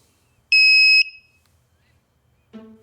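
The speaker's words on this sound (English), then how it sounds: "So this is a handheld metal detector" A handheld metal detector of the kind used to screen players at chess tournaments gives a single loud, steady, high-pitched beep lasting about half a second, followed by quiet and then the brief onset of another sound.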